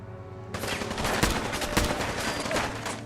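Assault rifle gunfire in Fallout 4, a sudden rapid burst of sharp, loud shots beginning after half a second of quiet, with an automatic rattle and heavy reports continuing to the end.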